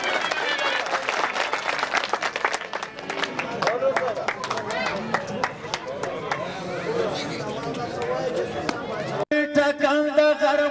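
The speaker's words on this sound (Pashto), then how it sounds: "د په افتخار یو چکچک وکړي" Crowd applause at a musical gathering in Kabul, dense clapping and chatter for several seconds, then music with singing begins near the end.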